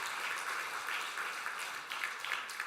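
A church congregation at a Sunday service applauds to encourage a young man about to enlist, steady dense clapping heard from a distance throughout, fairly soft and even.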